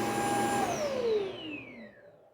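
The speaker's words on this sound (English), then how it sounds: "Emptying into the bag." The dock of a 3i S10 Ultra robot vacuum empties dust into its bag with a loud suction roar whose pitch slides downward as the motor spins down and fades.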